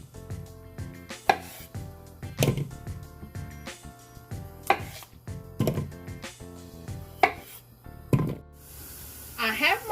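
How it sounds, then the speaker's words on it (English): A knife cuts potatoes in half on a board, with a series of sharp, separate chops and thunks at an irregular pace, close by, over background music. "now we're gonna cut our potatoes in half"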